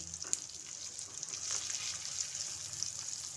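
Fish coated in mixed spices fries in a pan with a steady, bright sizzle, close and fairly quiet, with scattered pops and crackles through the oil and no talking.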